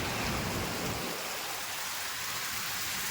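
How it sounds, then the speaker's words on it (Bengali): Heavy monsoon rain pours down in Mumbai as a dense, continuous hiss of drops on surfaces, loud and unbroken, with no voices. "দেখো কত বৃষ্টি সকাল থেকে চালুই আছে"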